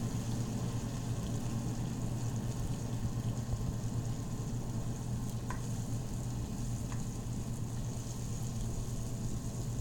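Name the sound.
tomato pieces sizzling and being stirred in pan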